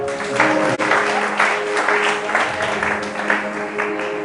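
A church congregation at a French-language seminar claps loudly and steadily to acclaim Jesus, a dense sustained applause with a few cheers and sustained organ-like tones beneath it.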